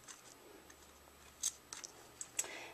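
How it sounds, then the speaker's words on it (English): Scissors make a few quiet, close snips through a fabric tab for covering a headband, three or four short crisp cuts in a near-silent room. "I'm going to cut a tab here"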